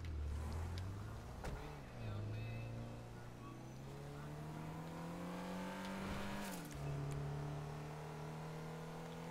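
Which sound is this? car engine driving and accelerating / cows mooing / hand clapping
car engine driving and accelerating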